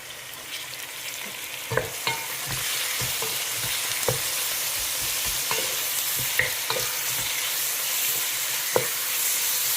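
Green chillies and a tomato fry in a pan, giving a continuous sizzle under occasional sharp scrapes and clinks of a stirring spoon, close by with no voices.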